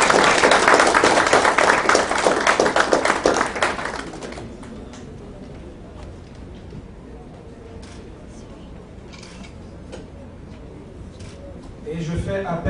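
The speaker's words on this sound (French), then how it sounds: "Sous vos applaudissements, s'il vous plaît." A youth parliament audience bursts into loud, dense applause for about four seconds, then it fades out and a speaker's voice continues over a quieter room.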